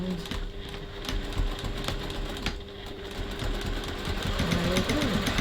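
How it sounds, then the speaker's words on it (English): A sewing machine runs steadily, stitching a crossbody bag with a 2.4 stitch length, a continuous close mechanical whir, with a voice faintly under it near the end. "I'm just going to make sure I'm stitching a bit further away so I'm not catching my body fabric"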